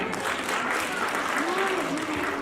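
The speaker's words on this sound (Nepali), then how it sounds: "एकचोटि जोरदार ताली बजाइदिनु होला।" Audience applause at a Tamang Loshar comedy show, a dense, sustained wash of clapping from a large crowd filling the room, with faint voices mixed underneath.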